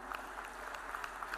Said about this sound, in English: let the claps keep rolling, ladies and gentlemen, come on